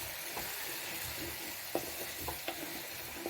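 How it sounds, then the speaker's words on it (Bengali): A large ground tomato frying in a hot pan, making a steady close hiss with a few sharp scrapes and taps of a spoon as it is stirred. "ভালো করে ভেজে নেব।"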